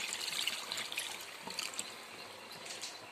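Tamarind juice poured into a pot of fish curry, a soft, steady liquid trickle and splash close by, fairly quiet and continuous for a few seconds with no voices over it.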